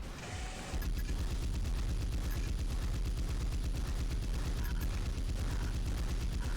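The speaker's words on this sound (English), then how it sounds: "Chain gun time." Rapid, continuous chain gun fire in the mech combat game Armored Core 3, a loud, steady mechanical rattle of shots running almost the whole time after a brief lead-in, with no talking.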